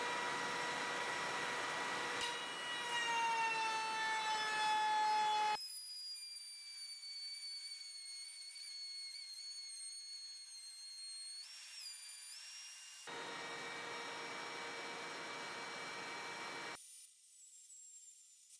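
A router cuts stop grooves in wooden planter box frame pieces, producing a loud, steady high whine that shifts pitch as the cut loads and unloads, sustained and close with no speech.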